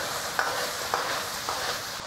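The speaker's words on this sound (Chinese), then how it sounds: "下入香料一起炒一下" Beef brisket being stir-fried with spices in a wok, a steady loud sizzle with a few quick scraping stir strokes at regular intervals.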